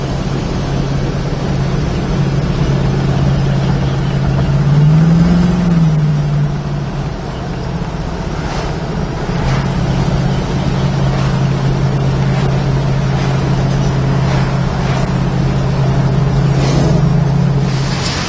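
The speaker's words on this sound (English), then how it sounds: "Straight running car." A 1970 Plymouth Cuda engine idles steadily up close for a long stretch, a loud continuous rumble with one brief rise in revs.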